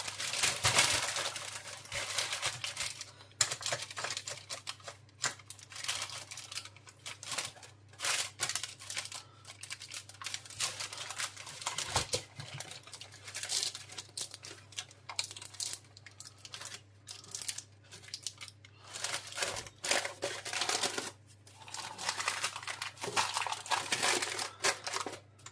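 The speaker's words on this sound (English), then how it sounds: "I'm using a 10-inch clip cake tin, and I'm lining the bottom." Baking paper crinkles and rustles continuously as it is fitted and pressed into the bottom of a 10-inch clip cake tin for a rhubarb crumble cheesecake, with close, soft, irregular crackling and occasional sharper scrunches; no talking.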